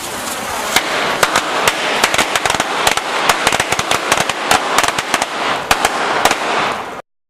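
Fused firecracker charges blow the walls of a model building, a rapid, irregular string of sharp close bangs and pops crackling continuously for several seconds before cutting off abruptly.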